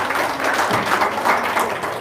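A short burst of audience clapping fills the room, dense and fairly loud, with a faint murmur of voices underneath.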